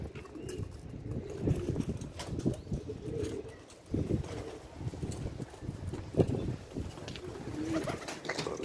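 Pigeons feeding in cold weather, coos repeating softly, close by, with wing flaps and scuffling among them and no speech.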